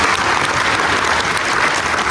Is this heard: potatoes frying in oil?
no